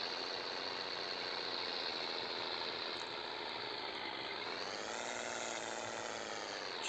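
A Scania 111 diesel truck engine runs continuously at idle, a steady mechanical rumble that shifts slightly in pitch partway through.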